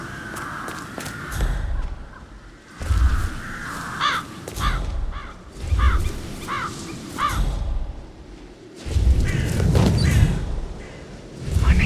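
Crows caw in Hitman 3 in repeated harsh bursts spread across the stretch, loud and near, with low thuds and rumbling ambience between calls.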